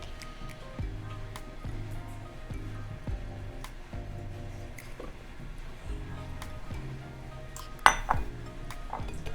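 Homemade play-doh ingredients such as flour, food coloring and rainwater are stirred in a bowl, giving soft rhythmic scraping and clinking strokes repeated at a steady pace, fairly quiet and near.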